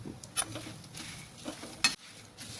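Puffed rice dusted with a little turmeric is lightly roasted in a pan, giving a soft, steady dry rustle with scraping stirs and a couple of sharper clinks of a utensil against the pan.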